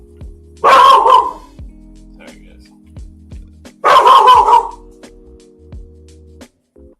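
A small dog barks in two loud, close bursts, each a rapid cluster of yips, around the first and fourth seconds, while a person speaks briefly between them.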